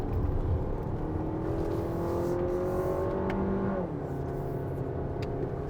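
A Lexus RX350 with the 2.4L turbo and 8-speed automatic cruises on the road in third gear, giving a steady engine hum with a whining tone that drops slightly partway through, heard from inside the cabin.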